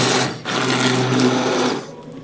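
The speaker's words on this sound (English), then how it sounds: "I have 2 speeds on my KitchenAid stick blender, and I'm just going to do this on low" A KitchenAid stick blender pureeing tomato soup whirs steadily at low speed with a droning motor hum, briefly dipping near the start, then cutting off before the end.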